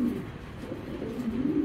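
A male racing pigeon of a foreign bloodline coos nearby in a soft, low, continuous warbling murmur that rises and falls over the short stretch.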